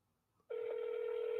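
After a short quiet pause, a steady telephone ringing tone starts and holds at one pitch, faint and heard through the phone line.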